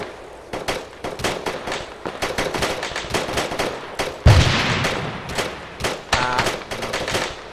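Rapid bursts of machine-gun and rifle fire crackle through a military co-op shooter battle, dense repeated volleys with a heavier blast near the middle, loud and sustained without talk.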